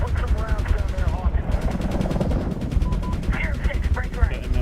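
Rapid machine-gun fire from rounds fired in a Medal of Honor shooter, dense, loud and continuous, with a voice speaking over it.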